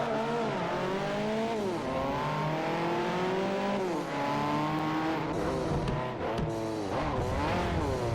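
A Peugeot 308 hatchback in Forza Motorsport 4 drives at speed, its engine note rising and dropping through gear changes with a steady loud drone and occasional tire noise.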